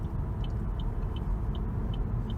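Inside a 2018 Chevrolet Bolt electric car on a test drive near York, Pennsylvania, a steady low road and tire rumble fills the cabin while it speeds up, with small regular ticking chirps on top and no one talking.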